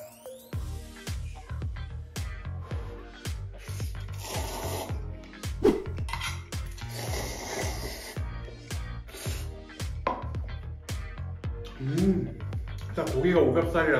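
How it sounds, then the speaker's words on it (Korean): Bibim noodles and boiled pork are eaten with cutlery and dishes, giving a string of close scraping, rubbing and clinking sounds with short pauses between them, and a voice speaks over much of it. "비빔면 3개랑 수육 준비해서 이제 먹어보도록 할게요."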